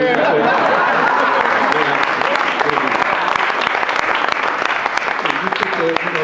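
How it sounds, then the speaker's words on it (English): An audience at a political rally breaks into loud, sustained applause, a dense wall of clapping that runs the whole stretch with crowd chatter and voices blended in. "you can applaud if you like"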